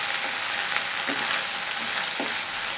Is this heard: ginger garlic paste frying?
yes